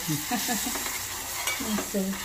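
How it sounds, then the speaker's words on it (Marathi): Ground mango pulp poured into a sizzling turmeric tempering in a pan, with a soft frying hiss beneath irregular stirring scrapes and a few short bursts of spitting, close and fairly quiet. "थोडीशी हळद टाकते आणि मग आंब्याचा गर तो वाटून घेतलेला आहे तो टाकते त्याच्यावर।"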